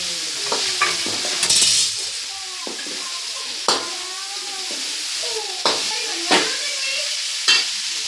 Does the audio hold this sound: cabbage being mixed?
yes